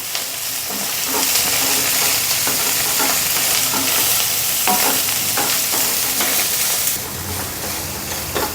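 Ponnaganti leaves frying with turmeric in a pan for a ponnaganti leaf and moong dal curry give a loud, steady sizzle, broken by repeated scraping stirs, with a brighter hiss near the end.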